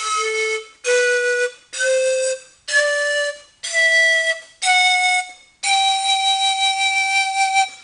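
Homemade panpipes tuned with ear putty play seven breathy notes one after another, climbing in pitch, each held briefly with short gaps and the last note sustained longer, close and clear with no talking.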